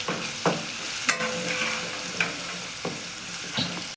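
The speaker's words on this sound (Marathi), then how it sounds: "नंतर त्यामध्ये अद्रक लसूणची पेस्ट टाकू. तो टाकून हलवून घेऊ." Ginger-garlic paste frying in a hot mustard-seed and cumin tempering, a steady sizzle with several sharp knocks of a spoon stirring against the pan, no voices.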